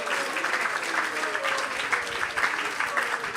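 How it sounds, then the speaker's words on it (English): An audience at a spiritual talk applauding a program participant, moderate clapping from a modest crowd, uneven and rhythmic with soft voices underneath. "Let's give a big round of applause for Amrit Sagar."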